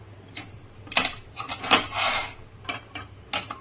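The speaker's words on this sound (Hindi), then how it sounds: "और गैस में रख देते हैं पैन को।" Several sharp metallic clanks and scrapes of a metal pan being set down on a gas stove grate, close by and fairly quiet, with no talking.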